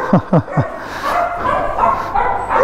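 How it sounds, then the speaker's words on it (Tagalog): Three sharp dog barks in quick succession up front, then a lower ongoing yapping and whimpering from nearby dogs in the background, beside a repossessed Yamaha Aerox 155 scooter. "napakaingay ng mga aso"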